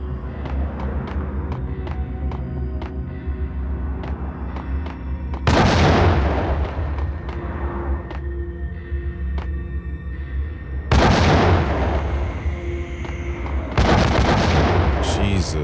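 An enemy barrage of gunfire and booming blasts in Max Payne on PS2 sounds as heavy, loud impacts that recur every few seconds over a constant low rumble, with sharp cracks in between.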